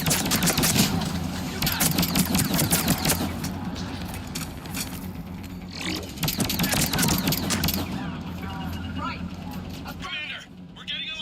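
Mortar blasts and gunfire in a Mass Effect 3 battle against Cerberus, a dense, loud wash of explosions and shots running almost continuously, with voices talking over the combat.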